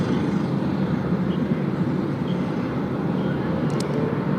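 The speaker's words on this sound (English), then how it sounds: "Bit of a 737 action just crossing there." A Boeing 737 airliner crossing at Tokyo Haneda Airport gives a steady, fairly loud jet roar that holds evenly throughout, with no talk over it.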